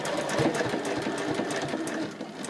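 A sewing machine stitches back and forth over the D-ring area of a fabric sling, a steady fast close whir running unbroken throughout with no speech.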